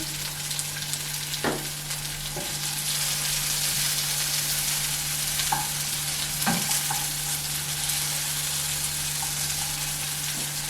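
Red peppers sauté in a small amount of oil with a pinch of salt in a pan for Korean japchae, giving a steady close sizzle with a few sharp utensil clinks and scrapes, no voices.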